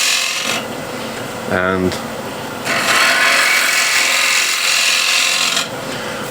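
A bowl gouge cuts wood on a large platter turning on a lathe, producing a continuous rough shearing hiss that swells louder for several seconds, with a short voiced word spoken midway.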